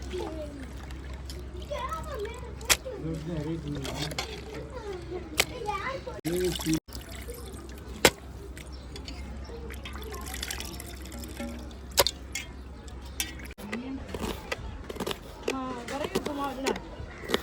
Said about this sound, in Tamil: நல்லா ஒரு 4-5 தண்ணிக்கு கழுவிடணும்.